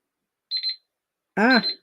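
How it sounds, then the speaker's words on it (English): A kitchen-style timer alarm sounds a quick triple beep, then a short harmonic tone follows, both close and clear against silence. "there's our timer"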